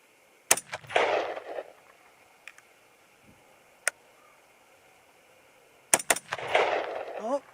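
Two sharp, loud .223 Remington rifle shots firing Nosler Varmageddon 55 grain loads, the first at the start and the second several seconds later. Each crack trails into a short echo with some faint clicks between.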